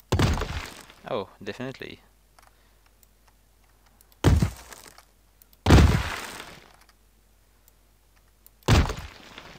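Heavy crashing impacts of a hammer smashing stairs in a video game, four loud broadband hits spread across the span with quiet gaps between them, plus a brief spoken exclamation early on.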